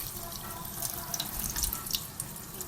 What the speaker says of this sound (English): Literally rinse the pasta in cold water.